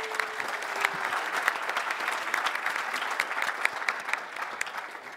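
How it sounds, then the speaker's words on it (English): Conference audience applauds the panelists at a developer career panel, a continuous, moderately distant patter of many hands that stays even for about five seconds, with a brief voice at the very start. "Let's give them a brief applause."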